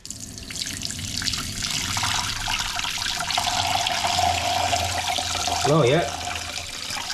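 Hot water gushes from a motorhome tap in a steady, close rush of splashing that swells briefly near the end, while someone speaks a few words.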